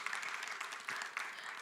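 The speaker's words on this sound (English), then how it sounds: "So I would like to give him a round of applause." Audience applause fills the room at a gathering: dense, steady clapping from many hands close by, continuous throughout with a couple of brief swells.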